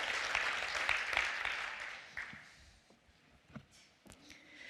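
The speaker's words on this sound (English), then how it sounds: "I think we should have another applause for Clara, who just kept us moving along." Congregation applauding at a fellowship service, a dense spread of clapping that is loudest at the start and thins out over a few seconds into scattered claps.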